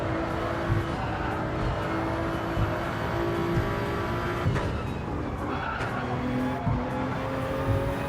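Toyota Supra GR3 race car sliding through Tokyo Expressway in Gran Turismo 7, with loud sustained tire squeal over a continuous engine roar and brief scrubbing surges, close and unbroken throughout.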